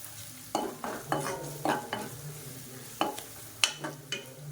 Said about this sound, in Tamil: இப்போ இதை வந்து லேசாக எண்ணெயில் பரட்டி விட்டுக்கலாம்